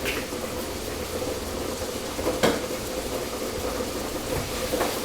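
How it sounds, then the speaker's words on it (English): Yucca is stirred and sautéed in a pan, making a low, steady frying hiss with a brief scraping stir near the middle and another toward the end. "Now we stir everything in while sauteing"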